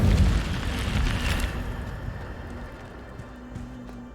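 The Incendio fire spell goes off in a video game, a loud rushing burst of flame at the start that rumbles on and slowly fades away over several seconds.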